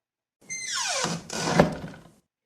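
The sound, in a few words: door opening in a narrated story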